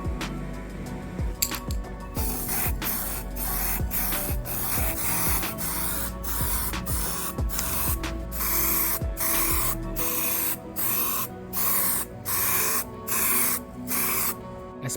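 A rusted differential cover being abrasive blasted, a loud continuous hiss of spraying grit, close by, steady at first and then broken into regular bursts as the blasting pulses on and off.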